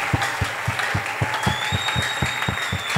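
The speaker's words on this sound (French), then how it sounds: "Applaudissez très fort." Congregation at a Sunday church service clapping loudly in a steady rhythmic beat, with a sustained musical tone running underneath the claps.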